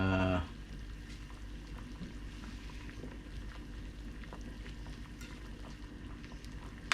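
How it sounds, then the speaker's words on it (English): Water for daikon soup boils in a pot with a steady, moderately quiet bubbling and rumbling that continues through the whole clip. A brief louder noise comes at the start. "the water started to boil already"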